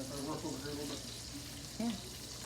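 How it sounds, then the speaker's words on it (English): Mushrooms hitting a very hot pan alongside steak and onions, giving a steady broadband sizzle with a brief louder burst near the end and faint low voice fragments underneath. "I'm going to add the mushrooms in because the pan is getting very hot now"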